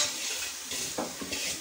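Onions and small shallots fry in a pan for chicken curry, giving a close sizzle broken by a couple of quick stirring scrapes of utensil on metal. The burst is brief, with no talking.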